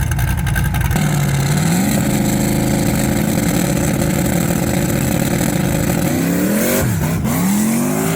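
A small-tire 410 Camaro drag car roars off the line in a no-prep drag race. The engine is loud and sustained with rising and falling rev sweeps toward the end.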